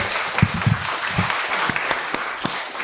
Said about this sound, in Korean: 여러분들 민주주의를 만들어가는 여러분들 자신을 위해서 큰 박수 한번 쳐보세요.